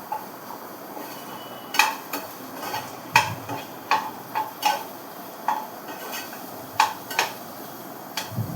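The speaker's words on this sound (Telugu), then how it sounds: "ముక్కలకు పట్టేటట్టు కారం మంచిగా కలుపుకోవాలి" A spoon stirs chili powder into a potato, cucumber and tomato curry in a pot, making scattered metallic taps and scrapes at an irregular rhythm over a quiet background hiss. No voices are heard.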